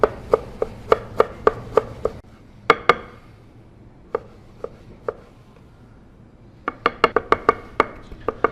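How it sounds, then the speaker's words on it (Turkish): A knife chops ginger sharply on a cutting board in quick runs of strikes, pausing for a few isolated chops before another fast burst, close and clear. "Zencefilimizi doğradık"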